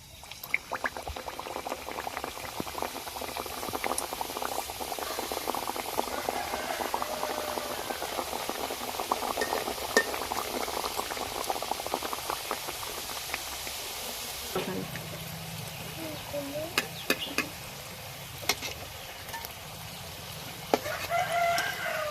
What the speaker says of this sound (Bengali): প্যাটিসগুলো ভাজার জন্য আমি কড়াইতে সাদা তেল গরম করে নিয়েছি। এবার আমি ভেজে নেব প্যাটিসগুলো।